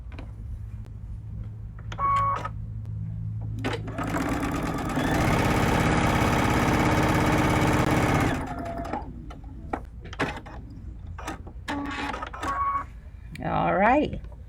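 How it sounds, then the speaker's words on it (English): A sewing machine stitches a bowtie quilt block seam in a loud burst of about four seconds of rapid whirring, with a person talking before and after and some handling clicks around it. "now I'm going to sew down this side."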